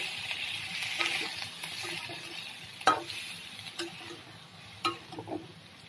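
Mango pickle with sugar is stirred in a pan, giving soft scraping and stirring strokes with a faint sizzle underneath and a few sharper clacks of the spoon against the pan, all fairly quiet.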